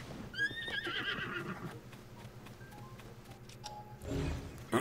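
In The Legend of Zelda: Tears of the Kingdom, a horse whinnies loudly near the start, followed by hoof clops and snorting, then a burst of rustling noise near the end.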